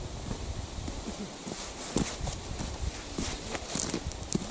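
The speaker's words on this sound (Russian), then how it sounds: "Вот Андрей Устинов и Теклюба Минаева подогнали своих коровок" Cows being driven along by herders on a village pasture, their hooves clopping in an uneven, repeated walking rhythm at close range, with faint rustling behind and no talk.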